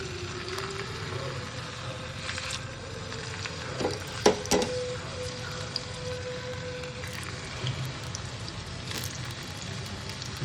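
Chicken sausage patties frying in coconut oil in a small pan, a steady close sizzle throughout with a couple of brief clinks and scrapes near the middle; no talking.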